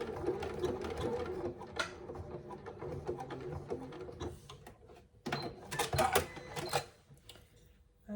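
A domestic sewing machine runs a parallel line of stitching on a zip pouch strap in quick mechanical bursts, whirring in stretches broken by short pauses and clicks, fairly close and alone.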